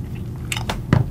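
Close, brief crunchy chewing of a cracker spread with peanut butter, two or three crisp bites in quick succession.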